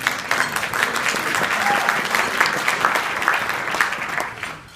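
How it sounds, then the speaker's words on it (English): A room full of people at a club changeover meeting applauds, with steady, sustained clapping that tapers off near the end. "Ladies might clap if they want to."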